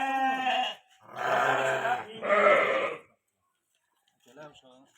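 Sheep bleat at an Arashan lamb sale, three long, close, wavering calls in a row followed by a pause and a fainter, shorter bleat.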